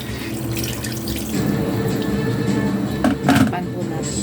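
Water is poured into a pan of chicken afritada with carrots, a low gurgling, splashing stream that swells near the end, close by over kitchen background noise.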